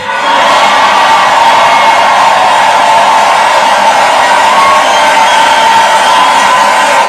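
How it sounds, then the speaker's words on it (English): Loud, energized political rally crowd cheering and whooping continuously, a dense roar of many voices with shouts on top, sustained and close without pause. "This is really the crowd, and listen to how energized the crowd is."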